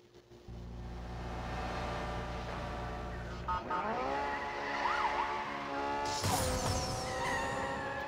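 Police interceptor sirens wail in Need for Speed No Limits, rising and falling over a droning car engine, with a sharp tire skid near the end.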